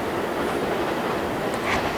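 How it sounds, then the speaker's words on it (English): An Amtrak train rumbles past in the background as a continuous broad roar with a faint rail squeal, steady and moderately loud with no voices. "You know, you got the lovely train in the background,"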